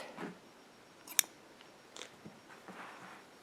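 A single crisp snip of scissors cutting crochet yarn, quiet and close, with a faint soft rustle of handling before and after it in an otherwise calm room.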